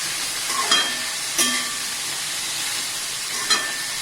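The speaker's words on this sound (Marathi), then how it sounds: "प्रथम या तेलात आणि जिऱ्यामध्ये हा पाला छान परतवून घ्यायचा आहे." Radish leaves sautéing in hot oil with cumin give a steady close sizzle and hiss, with a few brief clinks of stirring spaced through it.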